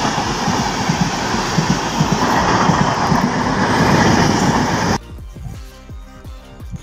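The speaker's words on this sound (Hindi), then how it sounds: "हमारे सामने से एक गाड़ी भी आ रहा है तो उसको जाने के बाद ही मैं जाएंगे" A train passes close by at a railway station: a loud, steady roar of rolling wheels for several seconds, then fading into rhythmic clickety-clack of wheels over rail joints as the last cars go by. No voices.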